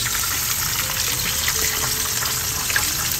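Salmon head and jaw pieces fry steadily in hot oil, a dense, even sizzle with faint crackles and light stirring, heard alone at close range.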